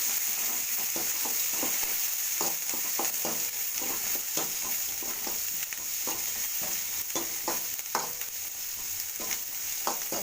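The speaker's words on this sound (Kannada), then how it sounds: "ಕ್ಯಾಪ್ಸಿಕಮ್ ಅಂತಾರಲ್ಲ ಅದನ್ನು ಚೆನ್ನಾಗಿ ಬಾಡಿಸ್ತೀವಿ" Capsicum sautés in a pan for vegetable vermicelli upma: a steady sizzle of frying with repeated stirring scrapes and taps throughout.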